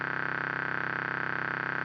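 A sustained, buzzy synth bass tone holds steady with a gritty, pulsing texture before cutting off abruptly.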